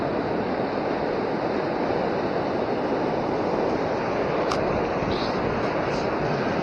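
Steady white water rushing below a river dam on the Fox River at South Elgin, a dense continuous roar with a few faint higher splashes and no talk.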